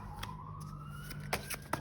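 A siren wails in the distance with a slowly rising tone, accompanied by a few faint knocks and clicks close by.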